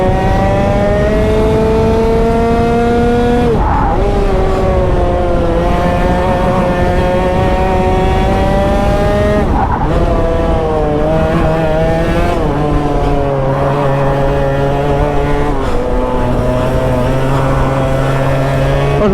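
A competition go-kart's engine screams steadily as it laps a track at a fair, loud and close throughout, its pitch rising under acceleration and dropping sharply at each corner.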